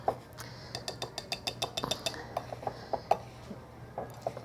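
Spoon clinking rhythmically against a bowl while mixing a thick, clay-like sink-cleaning paste, a quiet series of about twenty light taps and scrapes close by, with no talking.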